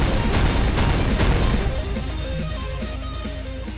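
An alien mothership explodes in a video game: dense, loud booming blasts and crackling bursts for about two seconds, then a lower rumbling tail with game sounds as the destruction fades.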